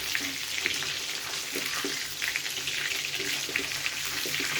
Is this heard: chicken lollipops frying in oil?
yes